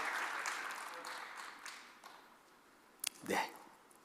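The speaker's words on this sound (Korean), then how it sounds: "다시 한번 이들을 위해서 큰 박수로 축복해 주십시오" A church congregation at a Sunday intergenerational worship service claps in blessing, a faint applause that fades out over a couple of seconds, followed by a few sharp taps and a brief rising sound.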